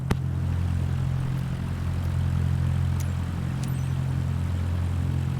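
A propeller aircraft taxiing to general aviation parking in Microsoft Flight Simulator 2024, with a steady low engine drone and propeller hum holding constant throughout, a few faint clicks on top.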